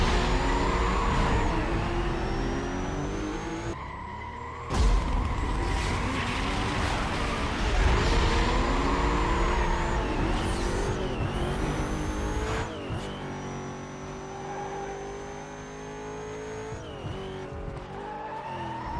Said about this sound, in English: So we've got an Audi A3, an Audi TT, and a Porsche 911 in this race.